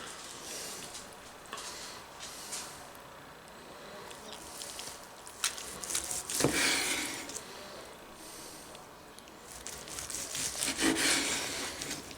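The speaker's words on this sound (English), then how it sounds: "Let me just slice some very thin slices." A knife works through a smoked chuck roast, cutting thin slices with soft, repeated rasping strokes close by. Several louder swipes stand out against a low room background.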